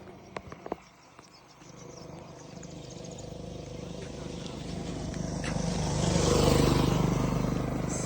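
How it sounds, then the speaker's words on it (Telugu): A motorbike approaches on a rural road in the rainy season, its engine rising from faint to loud as it nears and passes close by, with no talk over it. "కొంచెం బైక్ వస్తుంది ఇప్పుడు."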